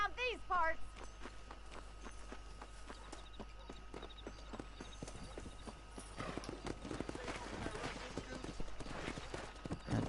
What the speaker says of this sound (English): going to have to watch what we're doing with the horses.